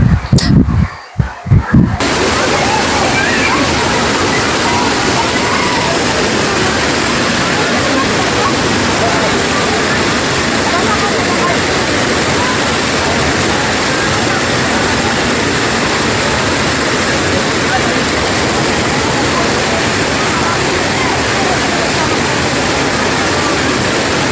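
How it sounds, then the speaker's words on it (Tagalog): Loud, steady rush of spring water pouring down from the mountain into a bathing pool at Bato Spring, San Pablo, Laguna, a dense continuous roar after a brief start. "Pakinggan ninyo ang lagaslas ng tubig, sobrang lakas."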